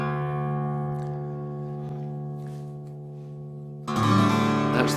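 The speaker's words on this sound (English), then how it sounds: "That's the sound of dadgad" An acoustic guitar in DADGAD open tuning rings with sustained open strings that slowly fade, then a bright, full strum bursts in near the end.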